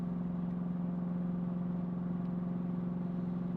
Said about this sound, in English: My car seems louder today.